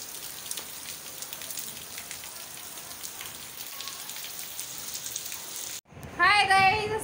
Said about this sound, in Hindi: ओहो, बहुत तेज़ गाइस बारिश हो रही है।